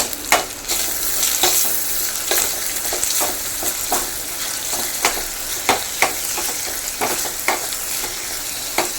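Curry leaves and a dried red chili fry in a small amount of oil for a prawn, potato and brinjal curry, a steady close sizzle broken by repeated sharp crackles and pops throughout, with no talking.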